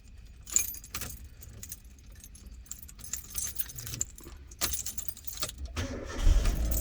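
Ignition keys jangle close by in a car's repaired ignition, light metallic rattles coming in bursts against a quiet cabin, ending in a louder thump near the finish.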